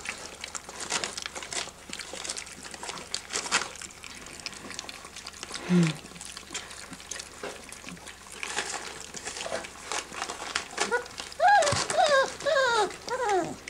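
A small female dog whines close by, with high wavering cries rising and falling near the end, over soft rustling, lapping and shuffling sounds.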